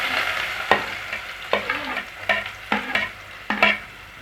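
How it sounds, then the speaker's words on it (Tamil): Finely chopped onions and fennel seeds fry in oil for soya chunk gravy, a close sizzling hiss broken by about six sharp scrapes and clacks of a spatula stirring against the pan at a loose, regular pace. "வெங்காயம் நல்லா கோல்டன் ஃப்ரை ஆகிற வரைக்கும் வதக்கி விட்டுட்டே இருங்க."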